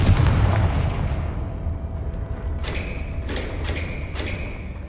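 A fiery Confringo spell blast in the video game Hogwarts Legacy bursts loudly at the start and fades, followed by several sharp, quick impact thuds.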